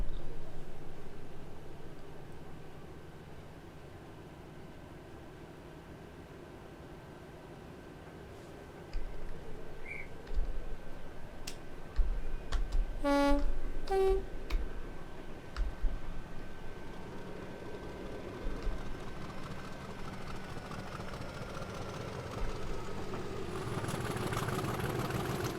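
Class 50 diesel locomotive in Train Simulator 2021 on the Exeter St David's to Paignton route, a steady low engine drone that swells louder as it goes back into gear, with a brief burst of clanking and a horn-like tone partway through.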